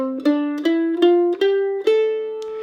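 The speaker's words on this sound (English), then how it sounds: "So the natural minor, 1 octave, sounds like this." A one-octave natural minor scale picked on mandolin, each note struck cleanly and ringing into the next in an even, unhurried ascending run of about eight notes, close and solo with no accompaniment.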